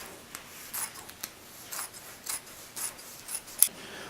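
Scissors snip through excess foam with a knit fabric backing during truck seat upholstery repair, giving a series of short, close cuts at irregular intervals with quiet pauses between them.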